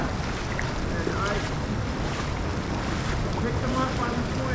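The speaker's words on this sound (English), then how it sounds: "the water's really fast here" Fast-flowing water of Elk Creek during steelhead fly fishing, a steady loud broadband rush with wind buffeting the microphone, continuous and close throughout.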